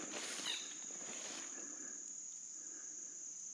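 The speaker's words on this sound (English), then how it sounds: "Oh, I hear frogs already." Frogs call outdoors on a farm, a faint, steady high-pitched trill running continuously through the clip with no talking.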